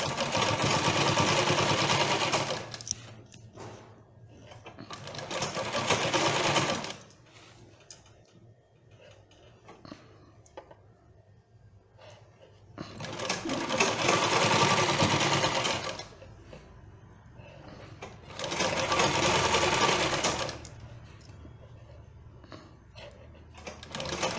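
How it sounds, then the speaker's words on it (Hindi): A sewing machine stitching piping onto a blouse runs in several loud, steady bursts of rapid mechanical clatter, separated by quieter pauses of handling and faint rustling. "लग गई हमारी पाइपिंग पे सिलाई"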